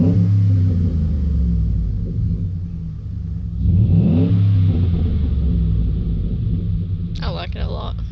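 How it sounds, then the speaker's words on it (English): A Ford F-150 with a 5.0L V8 idles with a deep rumble, then its electric exhaust cutout opens for a louder, throatier drone; people talk over the engine. "And then you hit the exhaust open. It's almost instant on open."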